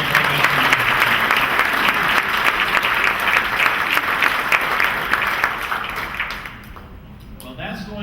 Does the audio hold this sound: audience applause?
yes